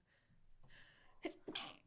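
A person with allergies sneezes, a short sharp burst preceded by a quick inhaled gasp, close and fairly quiet, with no other sounds around it.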